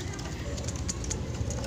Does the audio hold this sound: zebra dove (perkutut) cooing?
yes